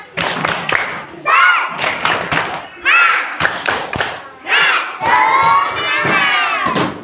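Schoolchildren in a classroom chant the tepuk semangat clapping routine in loud bursts, rhythmic thumps of claps and shouted voices alternating with brief pauses, close and energetic throughout.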